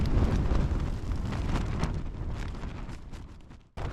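Strong gusting wind buffets a camping tent, a loud, close, rushing roar that swells and eases, then drops out abruptly for a moment before returning.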